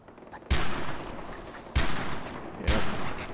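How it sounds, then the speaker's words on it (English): Three sharp, loud pistol shots ring out at a slow, uneven pace in Far Cry 4, each one followed by a short echoing tail over quiet game ambience. "Let's use the pistol."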